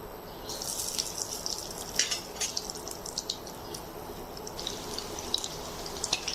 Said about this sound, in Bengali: এবার আমি একটা একটা করে মাংসগুলো দিয়ে দিচ্ছি।